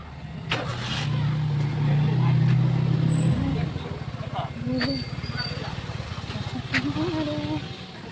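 A car is driven out through a gate at a fair outing, with an engine hum and revving that rises then fades, while people talk over it.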